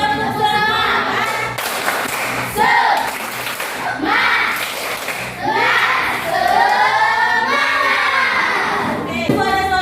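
A school class performs the rhythmic 'tepuk semangat' spirit clap, children's voices chanting loudly in unison with claps mixed in throughout.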